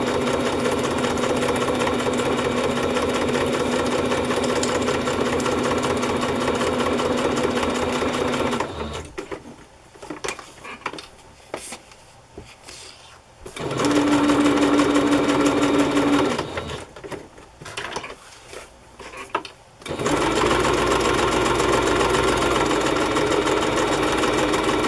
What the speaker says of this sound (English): I stitch around it twice with messy stitching.